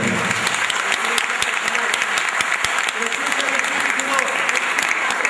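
An audience at a Christmas concert in Dărmănești claps loudly with a dense, crackling patter that continues throughout, with a voice faintly audible beneath it.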